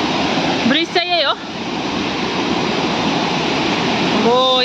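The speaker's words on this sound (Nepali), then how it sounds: "उम्लेको हेर पानी ए डर लाग्यो कस्तो डेन्जर छ है" Overflowing Rambi Khola river water rushes under a steel bridge near Mungpoo, giving a loud, continuous roar, with people speaking briefly near the start and again at the end.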